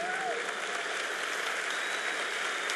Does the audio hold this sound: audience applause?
yes